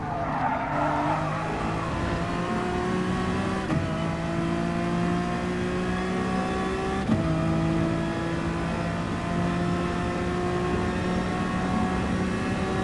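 Race car engine in the GT Sport racing game holding a loud, steady high-revving drone with brief gear-shift dips, tires squealing and skidding over curbs throughout, with no voices.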